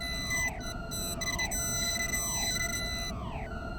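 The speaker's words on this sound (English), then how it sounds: "If it's not beeping, then neither have radiation." A video game's radiation monitor gives repeated sweeping electronic tones, each one gliding downward in pitch, cycling steadily over a constant background hiss.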